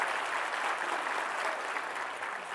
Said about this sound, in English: Give a hand applause to him.